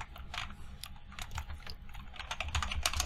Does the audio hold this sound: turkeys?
no